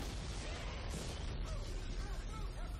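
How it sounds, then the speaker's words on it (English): Dense, continuous rumbling blasts and crashing bursts from explosions in the sci-fi horror game Dead Space 2, heard as a sustained loud wash of noise with no clear gaps. "Explosions!"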